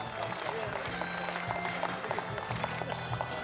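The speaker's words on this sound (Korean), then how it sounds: "큰 박수로 화답해 주시기 바랍니다" Audience applause at a Korean association of city, county and district council chairs, a steady broadband patter of many hands mixed with low tonal background sound and voices throughout.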